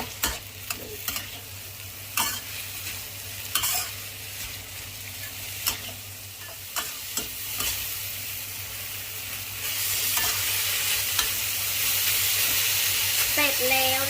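Liver stir-fries in a pan over high heat with a continuous close sizzle, broken by regular scraping strokes of a utensil, and the sizzle swells louder toward the end.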